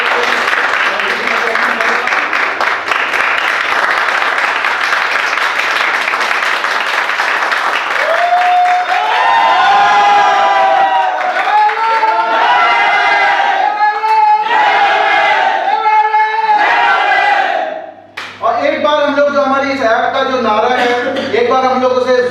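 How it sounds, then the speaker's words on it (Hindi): Loud applause and cheering from a crowd at an app launch ceremony, dense clapping that gives way to energetic shouted chanting and voices, ending with a brief drop before the voices resume. "एक बार जोरदार तालियां बजाकर हम लोग स्वागत करते हैं।"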